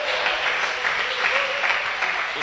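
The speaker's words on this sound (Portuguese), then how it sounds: "pode dar uma linda salva de palmas" A church congregation breaks into brief, dense applause during a service, steady clapping throughout with no talking over it.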